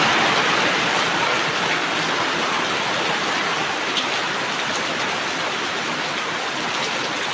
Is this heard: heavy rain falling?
yes